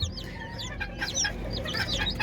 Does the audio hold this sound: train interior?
no